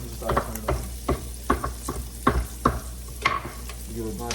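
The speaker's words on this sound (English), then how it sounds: "Give it a nice little stir, letting it cook up" Oyster mushrooms sizzling in a frying pan as a vegan dish cooks, with a spoon or spatula stirring in quick irregular scrapes and clacks over a steady frying hiss, close and clear.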